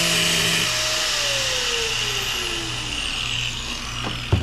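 A cutting wheel grinder spins loudly and continuously, its whine slowly falling in pitch as it winds down over a steady motor drone, with a brief clunk at the end and no voices.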